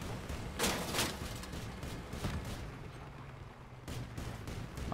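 Bursts of gunfire from vehicle weapons in the combat game Crossout, with loud shots clustered near the start and again around the middle, over a steady rumbling battle backdrop with scattered thuds.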